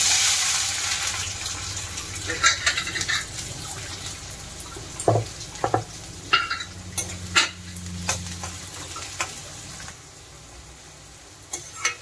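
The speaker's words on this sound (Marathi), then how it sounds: "कांद्याला चांगलं ब्राऊन होईपर्यंत भाजून घेऊया आपण" Chopped onion with whole cumin sizzling in hot oil in a pan for a Marathi-style dry chicken gravy, a steady close fry stirred now and then with scattered clinks of a utensil against the pan and no talk.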